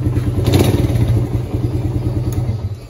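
A stock motorcycle engine, a Honda CBR150R or Suzuki Satria FU 150, runs close by with a throaty, pulsing rumble, briefly revving up before settling back to a steady idle.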